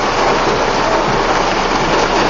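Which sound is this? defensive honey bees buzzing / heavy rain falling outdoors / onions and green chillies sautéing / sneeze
heavy rain falling outdoors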